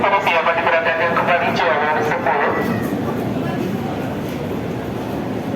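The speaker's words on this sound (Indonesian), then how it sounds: "KRL terbaru buatan CRRC dan PT Inka" A new CRRC and PT Inka KRL electric commuter train moves nearby, a rising motor whine at first that gives way to a steady rolling rumble, loud and close, with a voice speaking over it.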